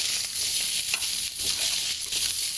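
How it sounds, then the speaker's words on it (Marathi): Paneer frying in butter in a pan gives off a steady, close sizzle with a bright crackling hiss and occasional stirring scrapes. "बटर टाकायचं आणि चांगलं फ्राय होतं"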